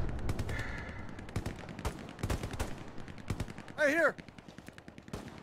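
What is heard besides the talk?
gunfire in a video game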